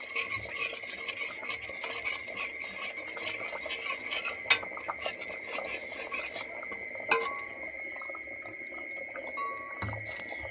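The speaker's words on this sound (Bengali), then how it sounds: "ভাতের হাঁড়িটা ফুটছে, তার জন্যই আওয়াজটা হচ্ছে।" A pot of rice boils on a kitchen stove, a faint, continuous bubbling and simmering rattle with a few light metallic clinks. No one speaks.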